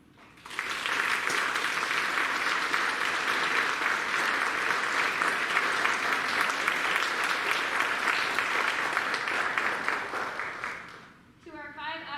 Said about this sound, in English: let's applaud them together in praise for their dedication to all